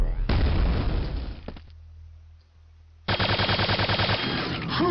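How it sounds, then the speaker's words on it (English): Explosions in the shooter game Quake 2 boom loudly in two heavy bursts separated by a short quiet gap, the second blast breaking into a dense, rapid crackle of detonations. "That's just noise from the explosions above, it's harmless."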